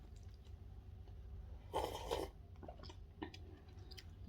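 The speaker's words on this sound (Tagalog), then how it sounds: "Higop natin yung sabaw." Someone slurps noodle soup broth eaten with chopsticks, a wet sucking burst of about half a second amid quiet chewing and faint mouth noises, close to the listener.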